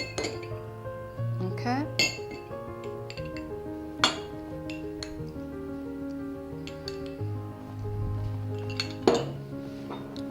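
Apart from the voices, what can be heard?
stirring a mix of coffee, cognac and sugar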